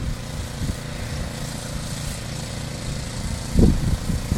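A snow blower runs during a February snowstorm, a rough nearby engine rumble with uneven chugging and a louder burst near the end.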